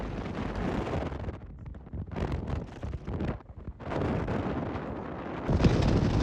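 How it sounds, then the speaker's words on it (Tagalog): Strong wind buffets the microphone on a mountain road trip near Yerevan, Armenia, a loud steady roar with surging gusts and a brief lull midway. "Ang hangin din napakalakas."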